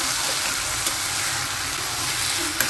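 A chili mixture for thecha fries in a pan with a dense, steady sizzle throughout, marked by a couple of faint stirring taps, and no talking.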